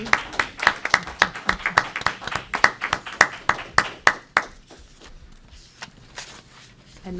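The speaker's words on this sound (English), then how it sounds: "Can you explain what we're clapping for?" Applause at a school board meeting, a small group clapping in a sharp, fairly regular rhythm for about four seconds, then fading into scattered claps and quiet murmuring.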